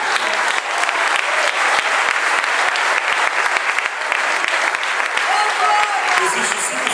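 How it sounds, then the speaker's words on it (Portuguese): A Pentecostal church congregation gives sustained applause for Jesus during a sermon, a loud dense round of clapping throughout, with some voices mixed into the crowd noise. "Você aplaude Jesus por causa da vida."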